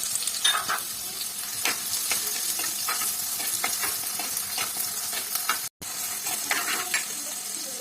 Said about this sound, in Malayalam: എണ്ണ ചൂടായി ഇതിനകത്ത് ഇത്തിരി ഉലുവ ഇട്ട് കൊടുക്കണം. ഞാൻ സവാള ഇട്ട് കൊടുക്കുകയാണ്.